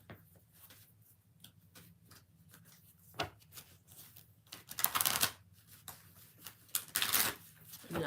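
A deck of tarot cards is shuffled close up during a reading, with soft riffling bursts and sharper flurries of card slaps at irregular intervals over a quiet room.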